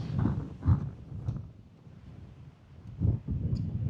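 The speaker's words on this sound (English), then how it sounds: "It's really windy." Gusty wind buffets the microphone in low rumbling bursts, rising and falling over a few seconds with no voices.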